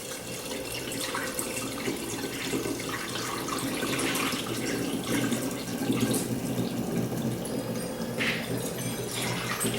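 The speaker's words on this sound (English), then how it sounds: "Then I'm going to add some of my juice" Juice pours steadily into a jug, a continuous close liquid splash and trickle running without pause for about ten seconds.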